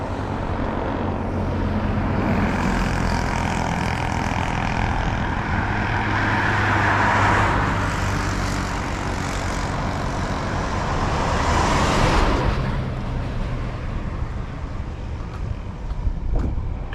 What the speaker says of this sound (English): Traffic can be loud.